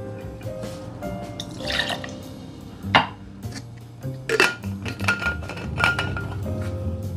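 Siberian vodka poured into a cocktail measure, with glassy clinks and a short trickle of liquid heard close and clear among small handling knocks, with no speech.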